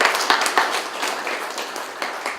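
An audience at a Kenya National Chamber of Commerce and Industry exhibition in Vihiga County claps, a brief patter of many hands with sharp individual claps popping through, fairly close and unaccompanied by talk.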